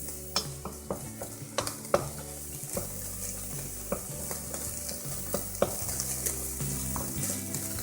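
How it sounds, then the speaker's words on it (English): Food for a rice and bean soup sizzles steadily in a pan as a utensil stirs and taps against it, with small clinks repeating over a constant close frying hiss, no voices. "I actually might let it sizzle a bit longer, add a bit more water"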